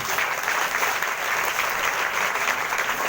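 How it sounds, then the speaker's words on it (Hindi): Loud, dense applause from a Sunday prayer congregation in a church gathering, steady and continuous for the whole stretch with no voices over it. "2-3 बहने जोरदार ताली से धन्यवाद करें।"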